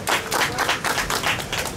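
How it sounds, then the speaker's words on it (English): People at a naming ceremony at a resort in Elmina clap for a woman, a brief burst of fairly loud, rapid, overlapping handclaps in an uneven rhythm. "Clap for the sister."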